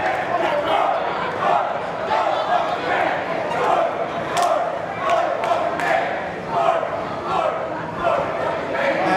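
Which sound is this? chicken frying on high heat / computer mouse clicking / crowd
crowd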